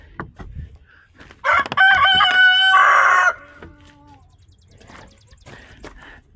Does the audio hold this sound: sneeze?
no